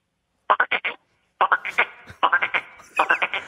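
A man on a radio show imitates a frog croaking with his voice, making quick rhythmic bursts of short guttural pulses in groups of four or five, separated by brief pauses.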